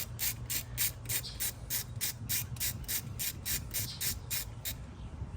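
A ratchet fitted with a 13/32 socket works a fastener on the throttle body of a 1999 Jeep Wrangler 2.5, giving a rapid, even series of about fourteen sharp clicks, close and loud.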